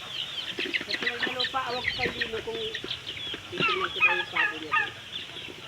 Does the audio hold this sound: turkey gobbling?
yes